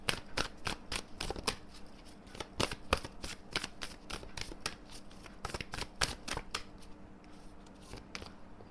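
Tarot cards being shuffled by hand in a quiet room, a rapid series of crisp riffling bursts repeating steadily, close and clear.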